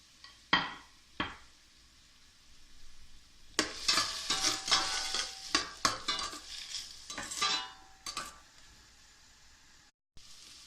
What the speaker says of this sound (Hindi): ये प्याज हल्की सी भून लिए, बहुत ज़्यादा नहीं करनी लाल।